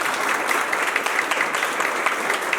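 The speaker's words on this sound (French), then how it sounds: "On les applaudit, s'il vous plaît." An audience applauds debaters in a steady, dense burst of clapping that carries through the short stretch, loud and close, with no voices standing out.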